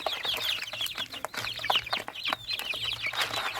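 Several young chickens cluck and chatter close by, with soft pecking and shuffling sounds as they eat compound feed pellets, lively and irregular throughout.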